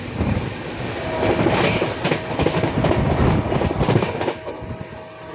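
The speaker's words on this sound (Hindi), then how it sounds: "अभी एक ट्रेन से क्रॉसिंग होने के लिए जा रही है हमारी सुपरफास्ट एक्सप्रेस।" The Malwa superfast express rolls along the rails with a loud, continuous rumble and rhythmic wheel clatter, heard from on board, easing slightly near the end.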